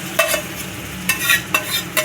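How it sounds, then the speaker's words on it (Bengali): Marinated meat hits a hot frying pan and sizzles steadily, with a few sharp scraping stirs of a spatula punctuating the continuous frying hiss. "এবার এই ম্যারিনেট করা মাংসটা দিয়ে দেবো"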